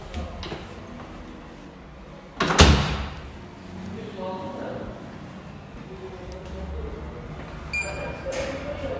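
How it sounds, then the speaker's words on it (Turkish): An apartment door being tried and banged, with one sharp loud bang early on followed by softer rattles and clicks while people talk. "kapıyı açamadık"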